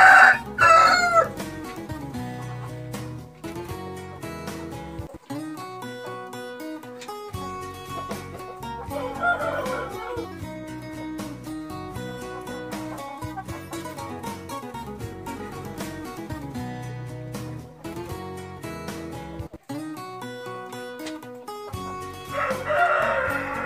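Several roosters crow repeatedly over steady hen clucking in a flock of Grissende-breed poultry, some birds close and loud, others farther off, with no talk.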